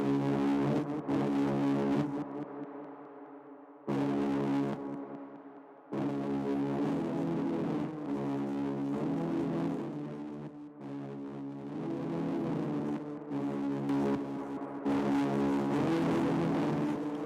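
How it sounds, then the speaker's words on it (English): A drill-beat lead synth driven through Camel Crusher distortion plays a gritty, buzzing melodic riff in repeated phrases with short gaps between them, loud and up front with no voice. "I would have this, camel crusher on it and see how it sounds."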